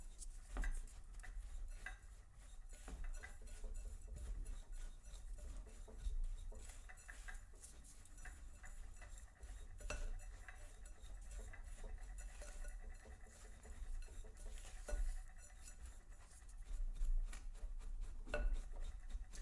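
Yogurt dessert ingredients mixed by hand in a bowl: a close, quiet run of spoon scrapes, taps and clinks against the bowl, repeating irregularly with no voices.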